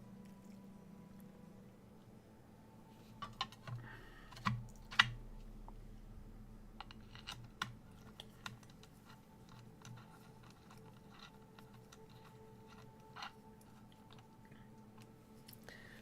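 Keycaps are pressed onto HMX Hades switches on an AKB Petrichor keyboard, giving faint, sparse plastic clicks and snaps with quiet handling noise between them.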